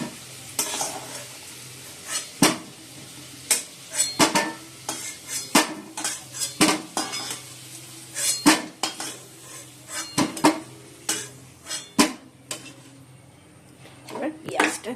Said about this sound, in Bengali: আলুগুলো ভেজে নিয়েছি, তুলে নিই